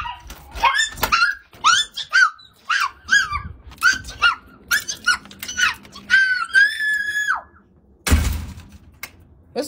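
Several dogs in a house bark, yelp and whimper in a rapid excited series of close, loud cries for about ten seconds, ending with one heavy thump.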